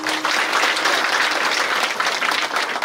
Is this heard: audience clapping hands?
yes